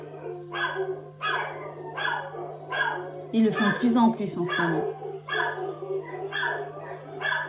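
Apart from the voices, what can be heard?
dogs barking and howling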